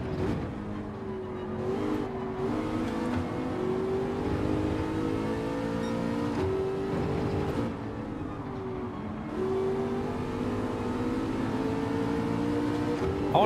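A race car engine in Gran Turismo 7 drones steadily throughout with shifting pitch as it holds speed, a few brief dips where revs drop and climb again, loud and close with no talking.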